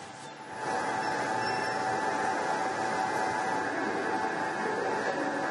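Interior of a metro train on a ride toward Kumbalagodu, Bengaluru, with a steady loud rumble and rolling hum building after a brief quieter start, continuous throughout with a faint high whine.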